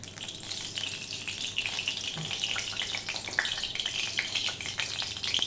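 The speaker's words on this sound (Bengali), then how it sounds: "কড়াইটা গরম হয়ে গেলে আমি দিয়ে দিলাম সর্ষের তেল" Hot mustard oil sizzles loudly and continuously in a wok, a dense crackling hiss with no voices.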